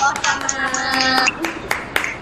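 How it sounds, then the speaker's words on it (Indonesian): Classmates in a school classroom clap for a student named Nadia, a short burst of scattered handclaps overlapping with talking voices. "Yang lain kasih tepuk tangan dulu dong buat Nadia."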